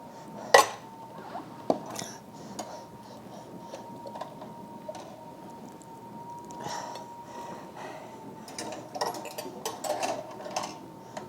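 A roasted turkey is lifted from a metal roaster pan in an off-grid kitchen, with scattered metallic clinks and scrapes of utensils against the pan over a steady low hum, a few sharper knocks near the start and a cluster at the end.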